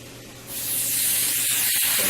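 An airbrush sprays a light coat of brown paint for a wood texture: a steady, close, broadband hiss starts after a short quiet lead-in and holds evenly to the end, with a couple of faint clicks near the close.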